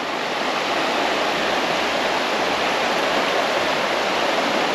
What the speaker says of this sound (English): And the streams just sing to you, don't they?